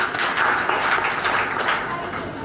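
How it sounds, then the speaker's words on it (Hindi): An audience claps together during a spiritual discourse at a meditation camp in Delhi, a steady rapid patter of many hands, moderately loud, lasting a couple of seconds. "ताली बजा दो"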